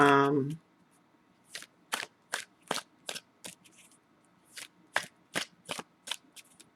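Tarot cards are shuffled and drawn, a series of crisp close card flicks and snaps in an uneven rhythm after a brief voice at the start.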